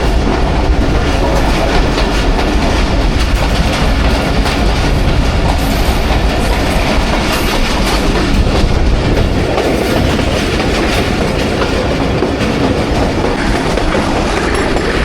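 Thall Express train running steadily on the rails between Jand and Multan, a continuous loud rumble with clickety-clack of wheels throughout and no talk.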